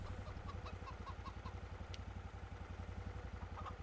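Chickens clucking in the video game Farming Simulator 25, steady repeated clucks over a constant low engine-like drone, moderately quiet and without speech.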